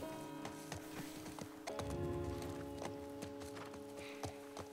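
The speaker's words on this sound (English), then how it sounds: "Oh, you can make the horse jump?" A horse's hooves in The Last of Us Part 1, a clear, rhythmic clip-clop at a trot, close and even, over a soft sustained musical tone.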